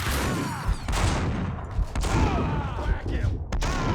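Shotgun blasts in the video game Max Payne 2, heavy booming reports landing amid a dense, busy game mix with chatter over it, a few sharper bursts standing out across four seconds.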